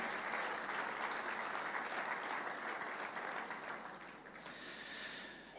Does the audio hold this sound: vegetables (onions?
no